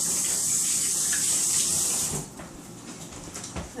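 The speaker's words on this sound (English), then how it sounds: "let me run and rinse my squash hands off really fast" Tap water runs hard into a sink while hands are rinsed, a loud close hiss for about two seconds. It then cuts off, leaving faint drips and handling noises.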